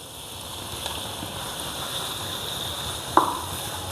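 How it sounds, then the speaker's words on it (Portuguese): Green bell pepper stirred and frying in a pan for a Portuguese lagarto escabeche dish, a steady soft sizzle with one brief utensil clink near the end. "Vamos mexer por mais ou menos uns 2 minutos. Vamos adicionar o pimentão verde."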